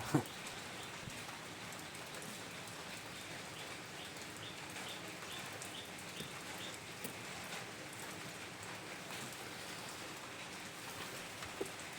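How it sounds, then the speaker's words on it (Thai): Steady rain falling outdoors over a garden of grafted guava trees, a continuous faint hiss with occasional small drop taps, heard alone without talking. "ฝนตกครับเย็นอากาศเย็นสบายเลย"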